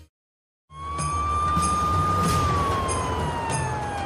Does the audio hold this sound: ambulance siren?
yes